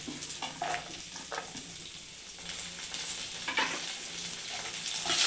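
Onion, ginger and garlic frying in a pan for chicken sambar, a steady close sizzle with several scraping stir strokes and light clatter, fairly loud and without talk.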